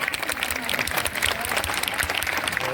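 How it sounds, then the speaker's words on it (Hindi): Dense, steady applause from an audience at a kavi sammelan poetry gathering, many hands clapping continuously at close range with no voices standing out. "तालियां बजाते रहिए और हमारे कवियों को हौसला अफजाई करते रहिए"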